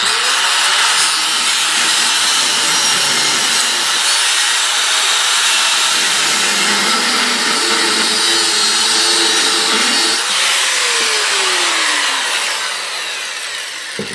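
A power cutting tool grinds steadily through a welded trailer wheel on a bent rim, a loud continuous abrasive whine with shifting pitch that eases off slightly near the end, with no voices.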